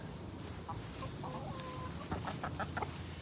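Chickens pecking at peppers outdoors give a few soft clucks and short calls, ending in a quick run of bursts, fairly faint against a steady background hiss.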